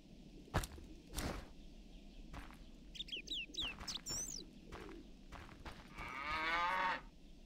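A cow moos in The Witcher, a long, drawn-out low call near the end, after several dull thumps and a short run of bird calls and coos.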